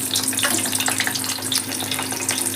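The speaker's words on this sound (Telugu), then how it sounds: "పచ్చిమిర్చి ఉంది కదా మంచిగా ఇవి నూనెలో వేసుకోవాలి" Green chillies frying in hot oil give off a dense, steady crackling sizzle that stays loud and continuous throughout, with no talking.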